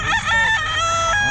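A young bull stag rooster crows at a busy Bocaue pet market, one full harmonic crow lasting over a second, loud and close against a low rumble of crowd noise.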